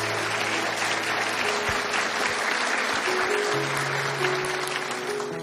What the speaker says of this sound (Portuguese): Uma salva de palmas para vocês mesmos.